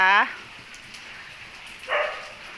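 Two short, high golden retriever puppy yelps, one at the start and another a couple of seconds later, over a faint steady background hiss.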